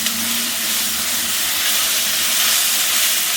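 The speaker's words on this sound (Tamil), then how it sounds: "இஞ்சி பூண்டு பேஸ்ட் போட்டு அதையும் கொஞ்சம் நல்லா வதக்கிக்கோங்க" Ginger garlic paste sizzles steadily in a hot pan while it fries for a prawn gravy, giving a continuous broadband hiss that stays close and even throughout, with no talking.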